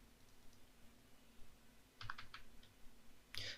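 Keystrokes on a computer keyboard while entering an Excel formula, heard as quiet, scattered clicks with a short cluster in the middle and a sharper burst near the end, over faint room hum with no talking.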